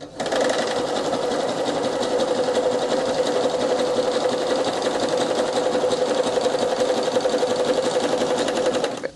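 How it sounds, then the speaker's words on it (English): An overlocker serges the fabric edges of a Barbie doll dress, running as one steady, loud, close mechanical whir with a fast even stitching pulse and no pauses. "I'm overlocking this to make sure it doesn't fray."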